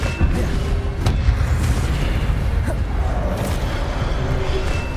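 Incendio fire spells are cast repeatedly in Hogwarts Legacy on Xbox Series X, producing a dense, loud roaring rumble of blasts with crackling bursts and occasional sharper pops amid combat noise.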